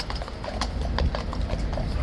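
Hooves of the King's horse at Horse Guards in London clip-clop on pavement in a steady run of close, crisp knocks, with faint outdoor background noise.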